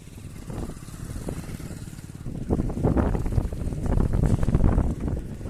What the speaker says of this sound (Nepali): यहाँ पुरा हावा चलिरहेछ